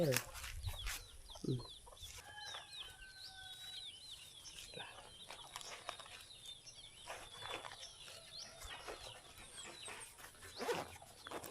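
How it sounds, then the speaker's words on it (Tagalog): A tethered chicken clucks and calls faintly in the background amid outdoor rustling and scattered knocks, with occasional short chirps. "Manok ko. Nakatali."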